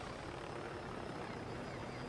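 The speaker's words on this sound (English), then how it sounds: "I hear the helicopter." Steady, dense rotor and engine drone of a helicopter in the video game Ghost Recon, fairly loud and constant throughout, with no other sounds standing out.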